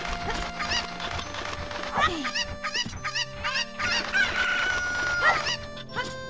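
Chickens in Ocarina of Time, Kakariko Village, clucking and squawking in repeated sharp calls over a steady game music background, fairly close and moderately loud, without talk.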